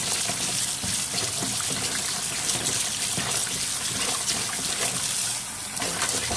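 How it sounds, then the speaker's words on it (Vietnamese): Tap water runs steadily while pork intestines are rinsed clean of salt water, a continuous splashing gush with no talking. "Rồi bây giờ mình sẽ xả bằng nước nhé."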